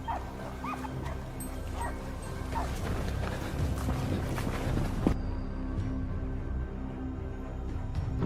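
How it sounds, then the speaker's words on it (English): Hunting dogs bark and yip in the woods during a daytime wild boar hog hunt in Texas, with repeated, fairly near barks and whimpers over steady outdoor background noise. "barking echoed through the woods, snapping the air taut with tension"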